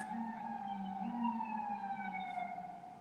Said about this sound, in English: I'm laughing at the police sirens.